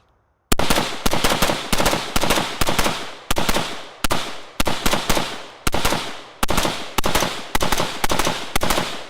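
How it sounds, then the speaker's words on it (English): Rifle shots fired at a hard drive outdoors, loud sharp reports in rapid bursts of two to four with short gaps, each crack trailing into a brief echo, repeated about a dozen times over nine seconds. "So I'm going to shoot the rifle here"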